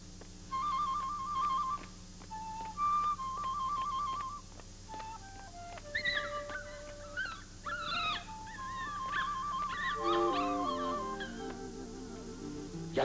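Dog whimpering in a Mexican film, a run of high, thin whining tones and whistly cries that rise and fall over about thirteen seconds, heard close and steady against a faint music-like background with no speech.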